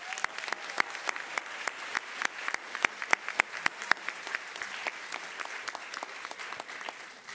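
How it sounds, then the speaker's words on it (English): A school audience gives a sustained round of applause for students of the month at a superintendent's recognition event, steady clapping from many hands over about seven seconds with no one speaking. "can we have one more round of applause for all of our students of the month?"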